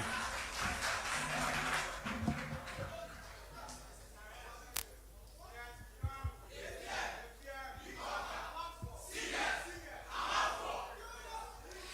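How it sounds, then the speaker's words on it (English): A crowd claps and cheers with loud shouts at a high school debate final, a dense, noisy burst of audience noise that swells and fades over several seconds. "A round of applause for him one more time."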